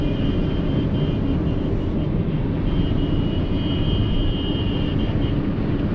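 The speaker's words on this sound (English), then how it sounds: "There's too much of noise with the lorry." A lorry's engine rumbles nearby on the road while a petrol 1.5 Hyundai Creta 2021 SX Executive is driven in fourth gear. The deep drone stays loud and unbroken the whole time.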